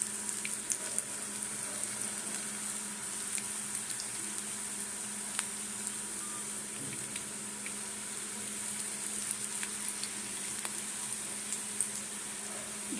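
Cauliflower pakoras fry in very hot oil with a steady, close bubbling sizzle and scattered small pops and crackles, continuous throughout with no voices.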